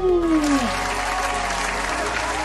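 Steady applause fills the clip, a broad wash of clapping from a crowd, following a short rising whoop at the start.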